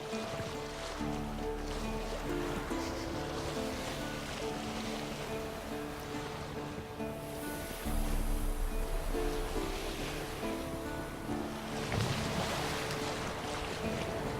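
Steady wind and water wash around a sailing boat in The Witcher 3, with a constant low hum and a soft flapping texture of fluttering sails throughout; no voices.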